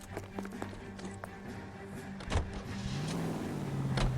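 A car in the LA Noire video game starts up and pulls away, a low engine rumble that rises and builds steadily, with door and mechanical clunks early on and no talk.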